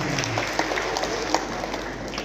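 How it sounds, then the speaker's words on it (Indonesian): Audience of teachers clapping at a training workshop, a dense, steady round of applause heard fairly close and loud, with a few sharper individual claps poking through. "Tepuk tangan begitu."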